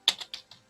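Typing on a computer keyboard while installing a Python package from the command line: four quick, crisp key clicks in an uneven rhythm, close and fairly faint, with no talk.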